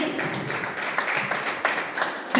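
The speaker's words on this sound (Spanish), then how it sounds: "darle un fuerte aplauso al Señor" A short burst of applause at a church sermon, many hands clapping together in a steady patter with a few sharper claps standing out.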